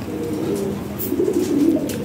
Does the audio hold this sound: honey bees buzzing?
no